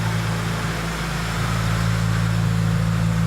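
A Toyota Celica idles steadily in a garage with a constant low engine hum and a faint whirring drone, loud and unbroken, without any talking.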